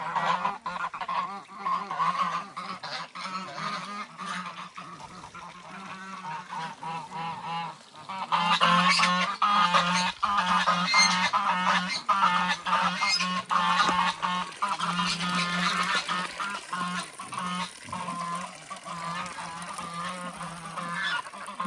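A flock of geese honks continuously nearby, loud overlapping calls that swell in the middle, over a low steady hum.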